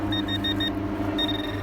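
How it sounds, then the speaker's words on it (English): A metal detector pinpointer beeps in short repeated pulses, then holds a longer tone, close and clear over a rumbling outdoor background while hunting in the woods. "Heard it beep."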